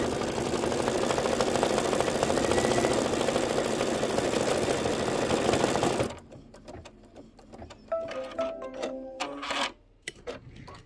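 An embroidery sewing machine runs a dense satin stitch around an appliqué for a Kimberbell bee quilt block, a steady loud rapid whir for about six seconds, then it stops and quieter handling clicks and rustles follow.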